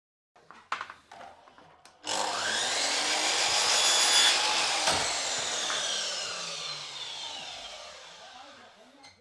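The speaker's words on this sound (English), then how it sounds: "We've got a power planer" Power planer shaving a wooden corner while building a garden room: a few light knocks, then a loud, steady, rasping whine of blades cutting wood that runs for several seconds and slowly fades, close by.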